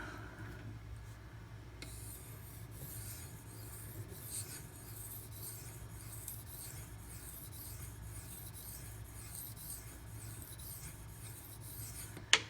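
A knife blade drawn back and forth across a hard Pride Abrasives water stone, a soft rhythmic grinding rasp repeating steadily for several seconds, quiet and close.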